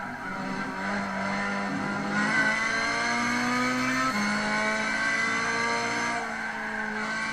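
A 1980-or-later race car in the video game Gran Turismo 6 on a Sierra circuit super lap, engine screaming steadily as it accelerates through gear changes with rising and falling pitch, loud and continuous, with no talk.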